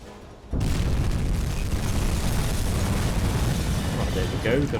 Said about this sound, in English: These things do like to kind of blow themselves up if a torpedo hits